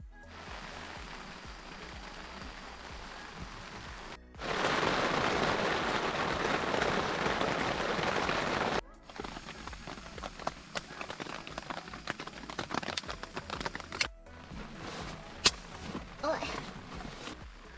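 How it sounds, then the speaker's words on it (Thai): Heavy rain pounds a K2 Motorrad two-person hiking tent, a dense steady hiss of drops on the fabric that swells louder in the middle, with patches of sharper patter and thuds around it. "จากคลิปสังเกตได้นะครับว่าฝนตกค่อนข้างรุนแรงเลยทีเดียว"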